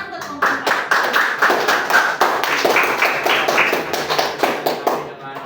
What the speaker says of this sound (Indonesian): Tepuk tangan buat kelompok kelas